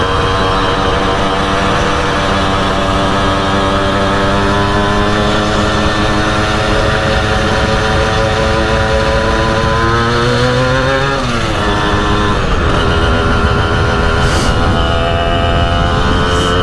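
Motorcycle engine riding on a mountain route, loud and continuous at close range, with rising and falling revs through gear changes and a sharp dip and surge midway, no talk over it.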